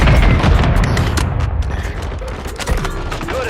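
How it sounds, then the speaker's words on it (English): A heavy missile strike in the Warzone video game, with a deep booming blast followed by a dense rolling crackle of explosions that fades over a few seconds, loud and close. "Missile strike."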